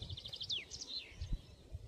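A leaf warbler sings in a forest, giving a quiet, high sequence of short chirps and a descending trill, fairly distant, over faint low background rumble.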